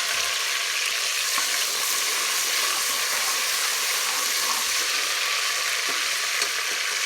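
Onions frying in hot ghee, a dense, even sizzle and hiss that runs close and unbroken throughout, with faint occasional crackles and no voices.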